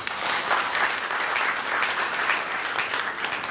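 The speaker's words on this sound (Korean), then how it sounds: "큰 박수로 부탁드립니다" Sustained audience applause at the 2019 Jeju Forum session on Korean Peninsula infrastructure cooperation: a dense, even patter of many hands filling the hall for the whole stretch, with no voices over it.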